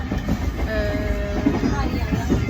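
Steady rumble and rattle of a crowded passenger train carriage running on rails in Sri Lanka, continuous and fairly loud, with faint rhythmic knocks and thin squeals over the noise.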